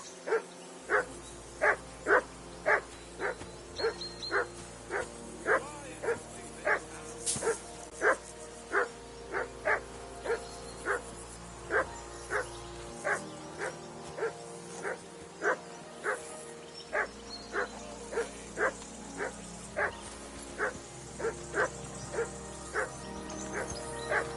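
A dog barks in a steady, evenly spaced series of sharp woofs, roughly one per second, loud and close, continuing for the whole stretch over a low background rumble, with no talking.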